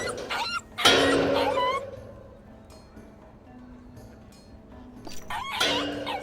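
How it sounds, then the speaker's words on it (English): A dog in the video game The Inquisitor barks in a few sharp, loud yelps near the start and again near the end, with quieter ambient stretches between. "Where did you get this dog?"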